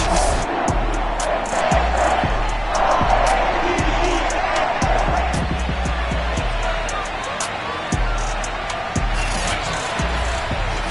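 A Baltimore stadium crowd in a football video game roars steadily as the teams take the field, a continuous cheering wash with sharp thumps and hits scattered through it, while a commentator talks over it.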